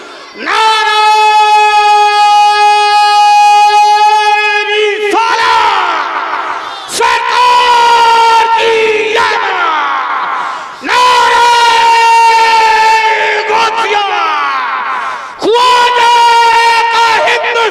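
A large religious gathering roars back in unison to a Naara-e-Takbeer call during an emotional sermon, with several loud sustained bursts of massed shouting from the crowd, separated by brief pauses.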